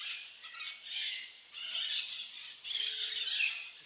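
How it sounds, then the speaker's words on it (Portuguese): Morning birdsong recorded from a house, bright high chirping and calls in bursts that swell and fade, fairly close, with no speech. "Os cantos dos pássaros de manhã assim."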